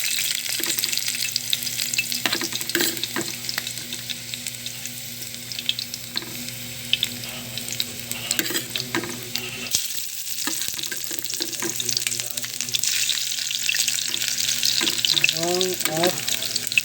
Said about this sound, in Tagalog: mainit na guys ang kawali natin. Ilagay na natin ang bawang.